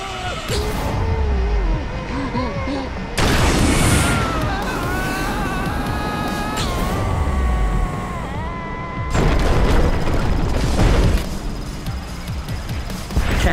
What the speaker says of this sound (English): Multiple consecutive explosions.